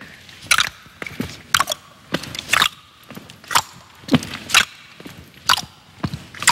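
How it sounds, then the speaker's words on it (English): Repeated tongue clicks, about a dozen sharp crisp pops in an uneven rhythm, made close by people clicking their tongues for fun, with no talking. "Try clicking your tongue."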